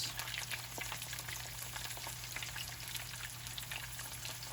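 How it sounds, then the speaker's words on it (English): Potatoes fry in a pan with a dense, steady sizzle and faint popping and spattering throughout, heard close up with a low hum underneath. "the idea is just to fry up the potatoes a little bit"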